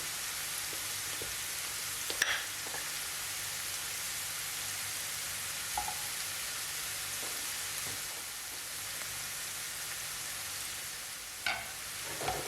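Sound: mushrooms frying in butter in a pan

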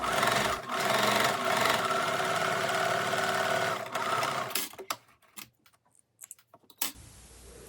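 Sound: sewing machine stitching the edge of sweatpants

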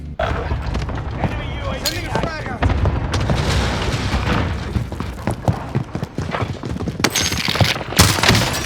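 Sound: Diamatti dual pistols gunfire in Call of Duty Warzone video game

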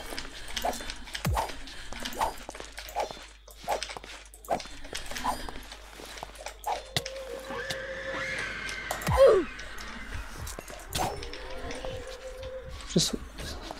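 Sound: dog whining in the video game RLCraft (Minecraft)

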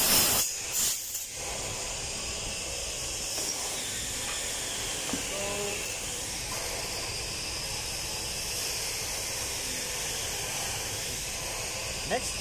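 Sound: compressed air blowing out fuel valve parts after lapping

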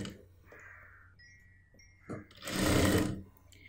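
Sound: sewing machine stitching a churidar made from an old dupatta

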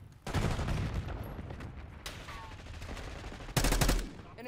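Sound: marksman rifle shooting in Black Ops 6 video game

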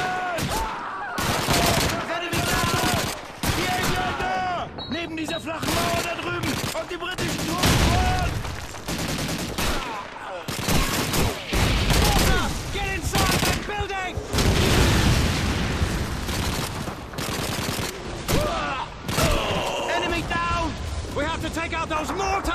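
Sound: MG-42 machine gun and mortar fire in Call of Duty 2 video game

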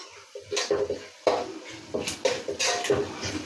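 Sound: stirring turmeric into frying masala in pan

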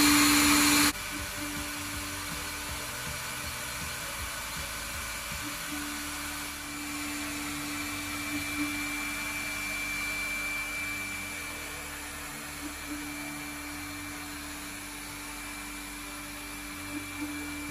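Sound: ball diamond cut machine with vertical head running, jewelry production

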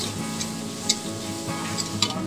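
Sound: sizzling vegetables and chopped paneer frying for veg biryani

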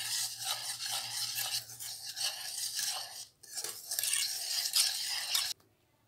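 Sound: whisking butter and sugar for shortbread cookie dough

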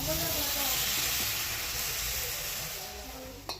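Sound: water added to sizzling cooking pot

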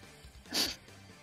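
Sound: sneeze

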